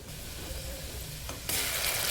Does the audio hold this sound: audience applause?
no